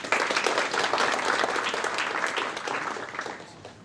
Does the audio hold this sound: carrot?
no